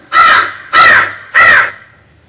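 A crow caws three times in an even rhythm, each call loud, harsh and close, with brief quiet gaps between; heard during a stage drama.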